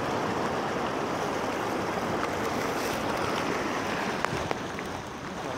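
Floodwater from an overflowing creek surges over a road culvert in Porongo, a steady loud broadband rush that fills the whole span without pause.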